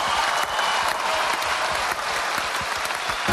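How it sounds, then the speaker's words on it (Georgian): An audience at a Georgian New Year comedy concert bursts into applause, a dense, even wash of many hands clapping that stays loud and steady throughout. "ერთი კარგი ქართული ტაში დაუკრათ"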